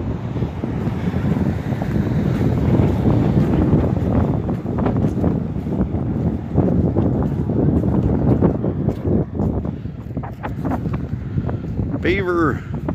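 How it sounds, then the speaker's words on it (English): Strong wind in Beaver, Oklahoma buffets the microphone in a loud, constant rumbling roar, with a brief voice near the end. "Pretty windy. Sorry for the noise,"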